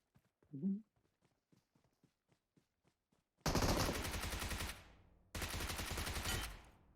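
Two long bursts of close, loud automatic rifle fire in PUBG Mobile, following a quiet stretch of soft footsteps and a brief voice.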